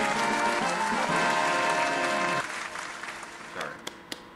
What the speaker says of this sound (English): Let's give them a round of applause right here.